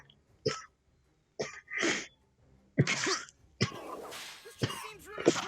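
Several separate coughs and throat-clearing bursts from one person close to the microphone, spaced out with short pauses and ending in a harsher run of hacking.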